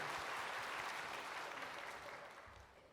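A church congregation claps in encouragement for its male and female elders during a sermon, a steady wash of applause that slowly tapers off.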